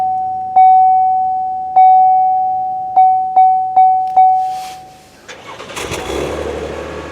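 Several chimes beep, then a 2017 Buick LaCrosse engine cranks and starts via push button, settling into a rumbling idle nearby.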